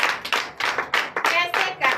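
Bursts of hand clapping from a church congregation at a Sunday service in Benin, loud and close, coming in uneven waves with brief gaps between them.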